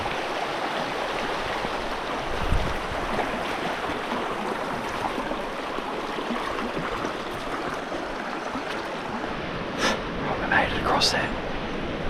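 Steady broadband rush of river water flowing continuously in an outdoor creek bed during a solo hunt, fairly close and unbroken, with a few faint brief sounds near the end.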